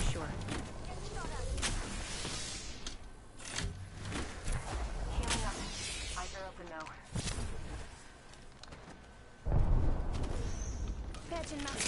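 Gunfire in a shooter video game rings out as a series of sharp, irregular shots and heavier blasts, loud and close, with a voice speaking over parts of the action.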